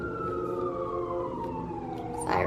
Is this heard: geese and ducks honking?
no